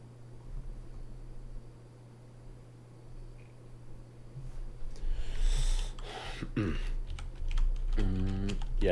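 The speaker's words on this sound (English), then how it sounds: "this is my Corsair. I forget the exact model number, but it's very clicky keyboard." Keys clatter on a clicky Corsair mechanical computer keyboard, a quick burst of sharp taps after a stretch of quiet room hiss, with some breathy noise mixed in.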